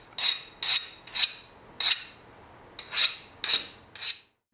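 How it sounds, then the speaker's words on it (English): A freshly quenched, hardened steel blade for a custom full-tang knife gives off eight short, bright, scraping metallic strokes in an uneven rhythm, close and fairly loud, with no voices. "The beautiful sound of hardened steel."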